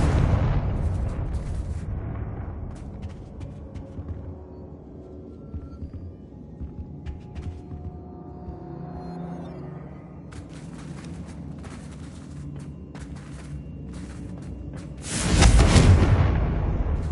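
Hogwarts Legacy spell blasts from Bombarda and Confringo: a rumbling explosion fades out at the start, then after a quieter stretch of crackling game sound a loud, sudden blast erupts near the end.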